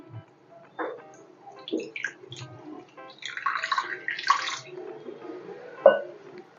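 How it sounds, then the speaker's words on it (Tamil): Water pours and splashes into a bowl in a few short bursts, then a longer gurgling stream, close by with light handling noises. "நல்லா இதுக்கு வந்து நான் தண்ணி ஊற்றுறேன்."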